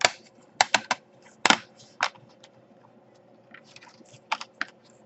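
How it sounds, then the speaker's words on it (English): Plastic clicks and snaps while the bezel is pried off a Dell Latitude E7440 i7 laptop, a series of sharp, close taps in irregular bursts over quiet background. "Here we take the bezel off."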